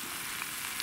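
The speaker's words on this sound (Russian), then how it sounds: "Лук жарим" Onions fry in a pan with a steady, close sizzle and a few faint crackles, no voices.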